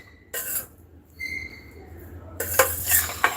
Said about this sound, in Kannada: ಅಪರೂಪಕ್ಕೆ ಪಾತ್ರೆ ತೊಳಿತಾ ಇದ್ದೀರಾ